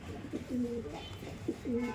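Black Madrasi pigeons in a loft give two soft, throaty coos in quick succession against faint background noise.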